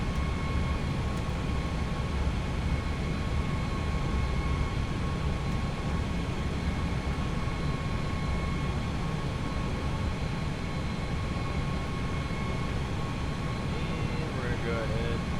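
An Airbus A320 airliner taxis into the gate, its engines giving a steady, loud broadband roar with a low rumble and a faint whine held throughout. Voices talk quietly beneath the engine noise.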